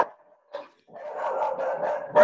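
A dog barks several times during an online task force meeting, with short yips followed by a longer stretch of loud, continuous barking close to the microphone.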